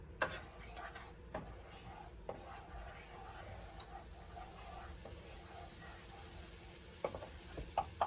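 Granulated garlic in melted butter in a pan, a quiet steady sizzle with occasional light clicks and taps of a utensil against the pan.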